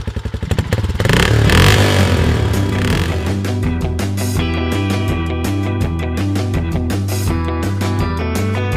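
Animated motorcycle engine revving loudly and pulling away, a steady close roar with rising pitch that holds for several seconds, no talk over it.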